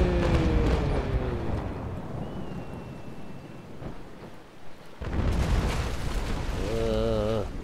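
Heavy booming rumble from ship cannons firing in the naval combat game Naval Action, a continuous loud roar with a fresh surge partway through, and no speech.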